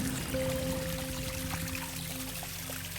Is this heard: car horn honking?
no